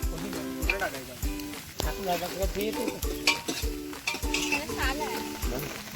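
Spices temper in hot oil in a pan, a close sizzle broken by repeated stirring scrapes and light clinks of a utensil, with people talking throughout.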